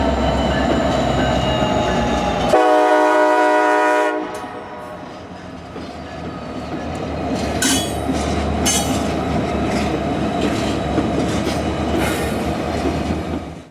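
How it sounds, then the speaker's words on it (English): A New York, Susquehanna and Western road train assembles its locomotive consist in a rail yard, with idling diesel engines under a loud sustained air horn blast, then rumbling engine noise and clattering couplers and wheels. "road train SU-99 was assembling its consist with quite the lash-up of power"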